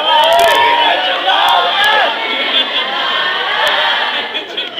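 An audience at a poetry performance about cheese enchiladas sings along together, a dense steady wash of many voices chanting with a few sharp accents, loud and continuous throughout.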